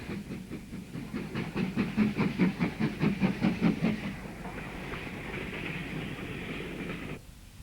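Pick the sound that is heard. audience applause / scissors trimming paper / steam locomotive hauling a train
steam locomotive hauling a train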